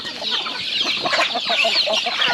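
Small chicks and grown chickens clucking and peeping together in a backyard pen, a dense steady chorus of overlapping high chirps and clucks, close and continuous with no talk.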